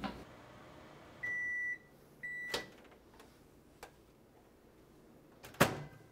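A microwave oven that has just cooked a sweet potato gives two beeps, then clicks and thuds sound as its door is opened, close and clear in a quiet kitchen.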